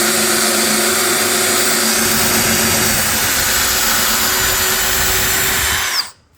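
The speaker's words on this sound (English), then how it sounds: "You just let it drill in there" A power drill boring a pocket hole whirs loudly and continuously for several seconds, a high steady whine with grinding texture, then abruptly stops.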